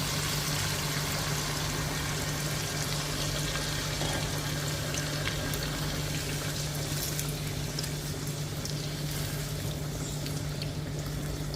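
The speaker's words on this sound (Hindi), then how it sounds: "तो इसमें अब हम पानी ऐड करते हैं" Water poured into frying mutton for korma sets off a loud, dense, continuous sizzle and bubbling hiss in the pan, steady throughout with a low hum underneath.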